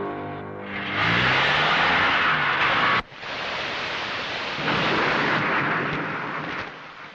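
A loud, close burst of thunder cracks and rolls into a heavy broadband roar of rain, then drops off for a moment before a dense downpour continues steadily, with no talking.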